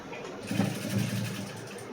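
A sewing machine stitches a cross-cut blouse with a steady, low mechanical hum that swells slightly midway, running alone without speech.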